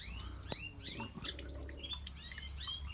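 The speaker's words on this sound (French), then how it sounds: "La petite femelle emblème peint." Painted finches in a spring aviary chirp and tweet, with several quick, bright calls and a sustained high whistle over faint background rustle, fairly quiet overall.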